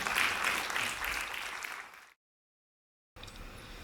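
An audience at a municipal election list presentation claps for about two seconds, fading toward the end before a sudden cut to silence, then a brief return of room noise.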